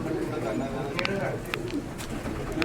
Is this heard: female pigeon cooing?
yes